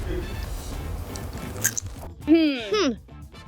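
Someone chews a crunchy chocolate snack close to the microphone, with steady crunching and mouth noise, followed by a brief voiced sound at the end.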